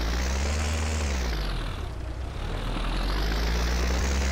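Steady, loud tractor engine drone from Farming Simulator 19, holding a constant hum with slight pitch rises and falls as it drives, briefly dipping midway, with no talk over it.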